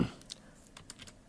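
Several light, separate keystrokes on a computer keyboard while a virtual machine name is entered, faint and close, spaced unevenly over a quiet room.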